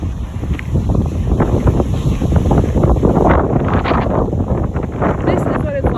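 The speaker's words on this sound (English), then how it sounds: "so windy, you probably can't even hear me" Strong wind on flat, open land before a storm buffets the microphone in loud, gusty rumbles, with a voice talking underneath.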